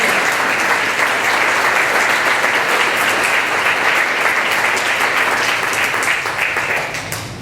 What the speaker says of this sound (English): Please give Mark a big round of applause for our Rotarian.